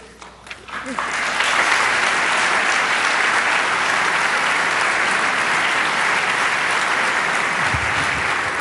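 Audience applause at a university lecture hall in Berlin swells after a brief voice and holds loud and steady, a dense wash of many hands clapping.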